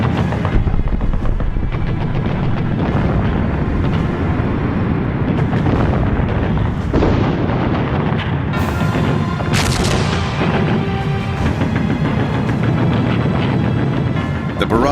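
A massive World War I German artillery bombardment on the Western Front, with heavy booms and rolling gunfire layered densely and loudly throughout, punctuated by sharper blasts.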